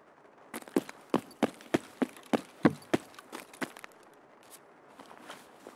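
Player footsteps in Escape from Tarkov: a rhythmic series of about a dozen crunchy steps, fairly close and moderately loud, fading into softer scuffs toward the end over a quiet background.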